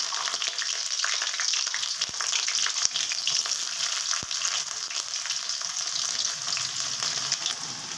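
Sliced onion frying in hot oil with garlic already browned, a steady loud sizzle and crackle close by, with a few sharp clicks of stirring, no voices.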